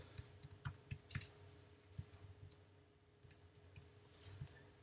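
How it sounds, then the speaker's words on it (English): Light clicking of keys on a computer keyboard as a student ID is entered on a library website login page, a quiet irregular run of taps in short clusters with pauses, close and alone. "Type in your student ID."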